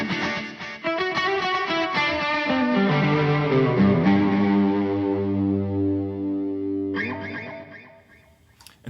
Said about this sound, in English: Oh, and there's a plate reverb too.